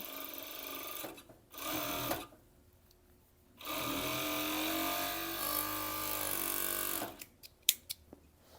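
Sewing machine runs in bursts while attaching elastic to the waistband of a cheeky bikini bottom: a short buzz, a pause, then a long steady whir of rapid stitching close up, ending in clicks and handling noises.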